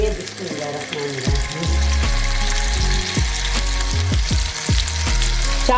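Chopped tomatoes fry in hot oil for a tomato chutney, making a loud, continuous crackling sizzle that stays dense throughout, with brief scraping stirs in it and no talking.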